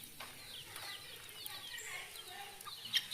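Chickens cluck softly and intermittently from under a bench at a home cooking spot, faint and somewhat distant, with scattered short calls over low background noise.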